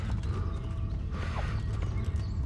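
Horse hooves clip-clop in a steady, continuous rhythm over a dense low rumble in the video game Kingdom Come: Deliverance, with no talking.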